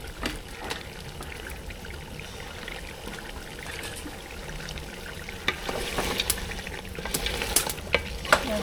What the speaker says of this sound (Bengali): নাড়িয়ে চাড়িয়ে দিতে দেবো